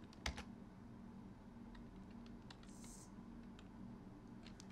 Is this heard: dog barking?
no